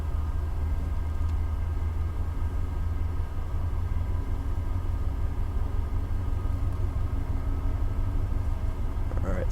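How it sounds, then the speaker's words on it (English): Diesel locomotive in Train Simulator notching up and revving, a steady low engine drone with rumbling undertone held evenly throughout, no talk over it. "while our train's revving up a little bit and getting up to speed"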